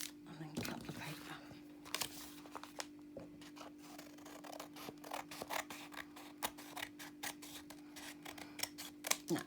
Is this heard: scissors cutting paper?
yes